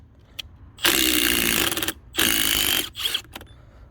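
A Milwaukee impact driver removes lug nuts from a wheel, hammering in two long bursts of about a second each, then a shorter burst and a few quick blips, loud and close with no talking.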